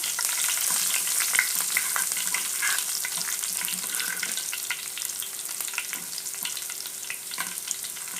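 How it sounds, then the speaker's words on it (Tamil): Garlic, dried red chilies and urad dal frying in hot oil, a continuous close sizzle with crackling pops and no talk over it. "இப்போ பூண்டு காஞ்ச மிளகா உளுத்தம்பருப்பெல்லாம் நல்லா வதங்கிடுச்சு"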